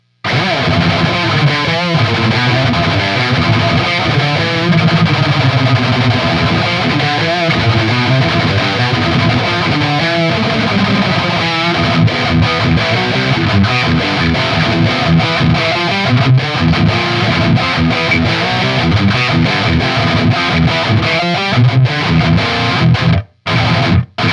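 Electric guitar through an Electric Eye Mud Killer overdrive pedal, loud and continuous, chords ringing with gritty distortion before a brief cutout near the end.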